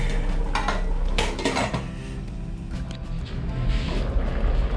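A metal lid set onto a cooking pot of tilapia and saluyot leaves, with clanking pot-and-pan sounds and a clatter of metal over a steady background rumble, close and fairly loud.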